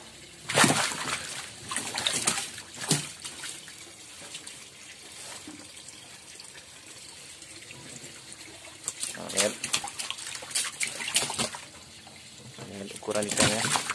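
Water poured into a tank holding large toman fish, splashing and sloshing in uneven bursts, louder at the start and near the end, with someone talking over it.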